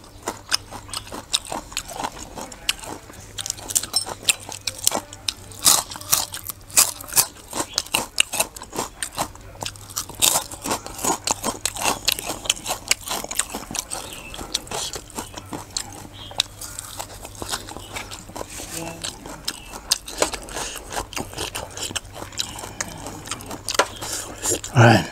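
Someone eats northern Thai style cucumber salad with crab paste, producing dense, close, crunchy bites and wet chewing in a rapid, continuous rhythm throughout.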